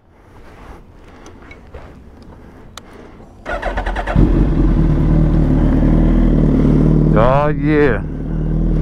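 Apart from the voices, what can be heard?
motorcycle engine cold start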